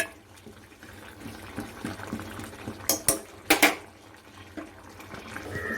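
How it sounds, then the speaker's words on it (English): Vegetables being stirred in a metal pot while cooking South Indian sambhar, a spoon scraping and clinking against the vessel with a few sharper, louder knocks near the end over a soft background hiss. "stir and mix up these vegetables now"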